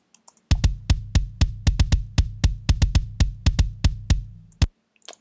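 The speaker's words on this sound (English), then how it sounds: "this kick sample sounds pretty good on its own" Metal kick drum sample with no EQ applied, playing alone. About twenty punchy, close hits land in a fast, slightly uneven rhythm, each a deep thump with a sharp click, then stop.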